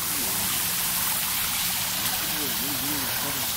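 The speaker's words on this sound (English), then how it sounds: "There's a waterfall." A small waterfall on a muddy hiking trail at Starved Rock sends up a steady, broad rush of falling water, continuous and moderately loud, with people talking faintly underneath.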